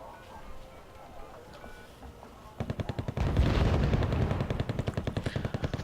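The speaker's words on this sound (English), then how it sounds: "a few well-placed cannon shots and machine gun fire" Tanks firing cannon shots alongside machine gun fire in the real-time strategy game Wargame: AirLand Battle, starting as scattered faint battle sounds, then bursting into rapid rattling automatic fire with heavy booming thuds that keep going to the end.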